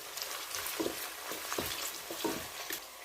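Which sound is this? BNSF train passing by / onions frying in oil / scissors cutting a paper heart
onions frying in oil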